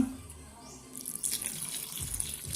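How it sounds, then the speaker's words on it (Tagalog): Warm water is poured into a pot for cooking pili, a soft splashing stream that grows slightly louder partway through and stays close and fairly quiet. "maligamgam na tubig"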